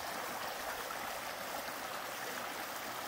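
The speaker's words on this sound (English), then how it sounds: "we come up on this little creek" Small creek near Elk Creek Campground, flowing steadily with a continuous broadband rush and gurgle, close by and constant throughout with no voices.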